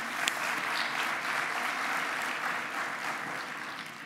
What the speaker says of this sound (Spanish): un aplauso para Luis por su cumpleaños